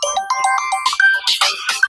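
A phone ringtone plays a bright, tinkling electronic melody in short bursts for about two seconds, loud and close, with no voices over it.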